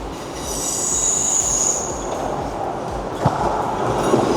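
Empty coaching stock train 5S16 running through Manors station in Newcastle, a loud close rumble of wheels with a high metallic squeal early on and a sharp clank partway through.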